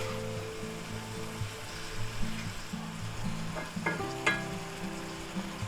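Peppers and onions sizzle steadily in a pan for a pepperoni and sausage pizza burrito filling, with a constant frying hiss, a low hum beneath and a few sharp clinks of a utensil stirring near the end.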